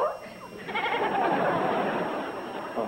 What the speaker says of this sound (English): A goat?